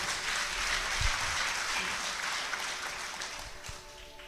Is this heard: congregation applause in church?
yes